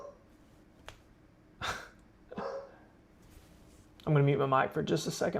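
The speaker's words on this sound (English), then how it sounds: "Sorry if you can hear my dogs barking in the background." Dogs barking indoors during severe weather coverage for Northeast Arkansas, a few short bursts in the background with a person speaking near the end.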